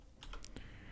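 Quick keystrokes on a computer keyboard, about four light clicks in under a second, close and clear with no voices.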